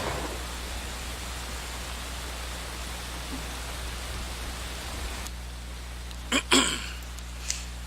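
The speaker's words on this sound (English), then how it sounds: "once again, it is raining" Rain falls in the Civil War shooter War of Rights, a steady hiss of downpour that drops abruptly partway through, followed by a few sharp clicks.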